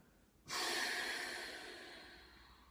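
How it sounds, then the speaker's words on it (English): A single long, breathy exhale during a chi kung exercise starts abruptly and fades gradually, close and soft, with no speech. "Then exhale."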